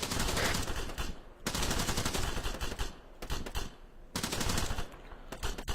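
Sustained machine-gun fire in a military shooter game, long rapid bursts that fill the space, broken by short pauses, with no talk over them.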